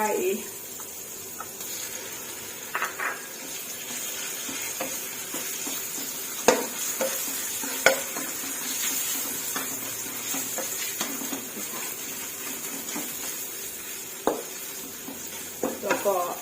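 Minced pork stir-fried in a pan with oyster sauce, a steady sizzle running under scattered spatula scrapes and clinks against the metal, with a few sharper knocks along the way.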